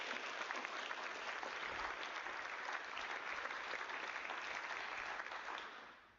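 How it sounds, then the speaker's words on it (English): Audience applause fills a hall of fame ceremony for fine arts inductees, a steady, dense wash of clapping that holds evenly throughout and fades slightly at the end. "So if we can give those people a round of applause,"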